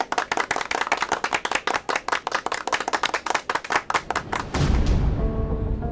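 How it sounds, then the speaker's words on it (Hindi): A group of new kids claps in a fast, even run of crisp, close claps for about four and a half seconds, then the clapping stops and a blend of voices and music follows. "नए नए बच्चे लोग ताली बजा कर तो बता दो"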